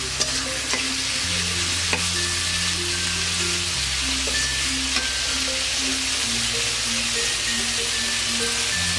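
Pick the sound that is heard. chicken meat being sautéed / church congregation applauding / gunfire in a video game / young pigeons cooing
chicken meat being sautéed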